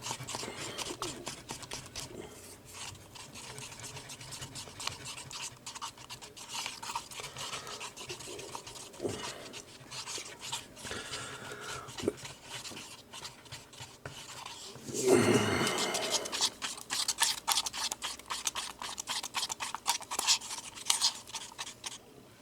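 A tool scrapes and stirs pourable silicone mold-making mixture in a container, a steady close rasping and scratching that runs the whole time, growing louder and busier near the end.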